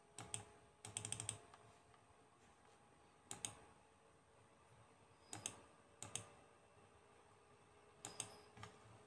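Quiet, close computer keyboard typing while setting up an Android TV set-top box, short bursts of clicking keystrokes separated by pauses of near silence.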